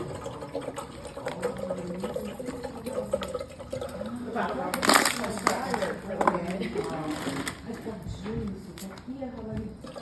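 A kettle being filled with water in a home kitchen, a soft trickling and pouring under close conversational speech, with a louder splash of water midway through.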